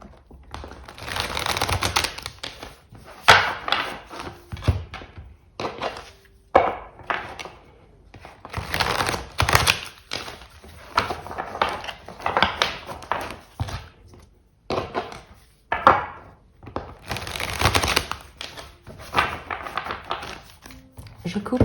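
Tarot cards being cut and laid out: repeated crisp taps, flicks and snapping bursts come in uneven clusters with short pauses, close and fairly loud, while a voice speaks at times.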